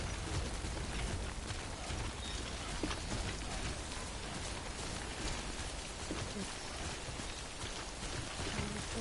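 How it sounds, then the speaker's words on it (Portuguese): Steady, dense rainfall in the Death Stranding video game, an even hiss of drops on surfaces that continues without a break at moderate level. "Chuva."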